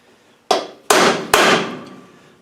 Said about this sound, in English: I'm going to tighten that up with a chisel.